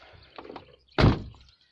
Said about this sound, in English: So Japanese when the door shut with a clunk.